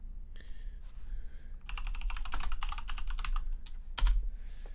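Close, crisp keystrokes on a computer keyboard, a few isolated clicks followed by a dense burst of fast typing and a final sharp key press.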